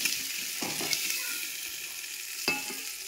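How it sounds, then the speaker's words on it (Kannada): Onions fry in a pan for sambar to go with idli, a steady close sizzle with a couple of louder stirring scrapes, no voices over it. "ಉಳ್ಳಾಗಡ್ಡಿ ಒಂದು ಸ್ವಲ್ಪ ಫ್ರೈ ಆಗ್ತಿದ್ದಂಗೆ"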